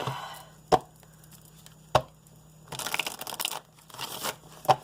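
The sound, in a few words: shuffling oracle cards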